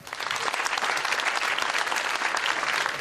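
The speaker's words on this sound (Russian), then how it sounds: "Ваши аплодисменты." An audience in a comedy show bursts into loud, dense clapping that holds steady for a few seconds.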